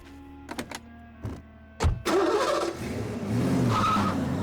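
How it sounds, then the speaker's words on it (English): Cartoon scene of a noisy tractor hitching up and towing a car: a few sharp mechanical clanks and knocks, then a loud rumbling engine that keeps running and rises slightly as it pulls away. "use that noisy tractor of yours to tow my car"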